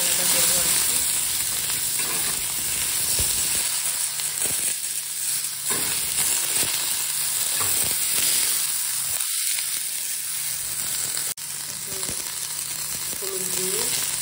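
Potatoes and green chillies fry in a pan at home in Kolkata, a loud continuous close sizzle with occasional stirring scrapes and no speech.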